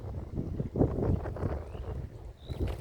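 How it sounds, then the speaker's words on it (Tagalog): Strong wind over a tobacco farm near a river buffets the microphone in loud rumbling gusts, rising and falling throughout. "sobrang lakas ng hangin guys"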